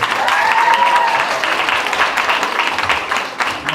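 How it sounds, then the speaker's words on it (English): Loud, sustained audience applause fills a church service hall, a dense wash of many hands clapping continuously, with a brief whistle or cheer rising early on. "let's give them another round of applause"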